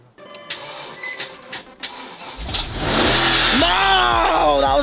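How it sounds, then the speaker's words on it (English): BMW V8 engine starting and revving: after a few faint clicks the engine catches with a rising mechanical whine, then settles into a loud, steady idle with a climbing rev, close by. "Sounds like a V8"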